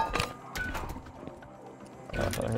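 Horse hooves clip-clop in the video game Rust, a few quick bursts of hoofbeats at the start and again near the end, separated by quieter game ambience.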